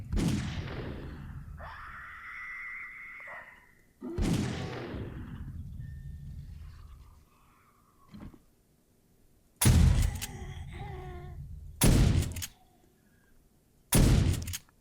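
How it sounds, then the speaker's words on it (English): Magnum revolver shots fired at bears in the survival video game 7 Days to Die: loud, booming single gunshots spaced several seconds apart, each with a long decaying tail, interleaved with creature growls and game effects. "How about a bear? Oh, I'm going to use my magnum for that."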